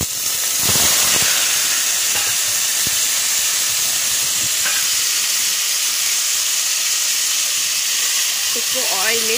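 Half a kilogram of mutton hits hot oil with a loud, steady hissing sizzle, a few clinks early on and a voice briefly at the end.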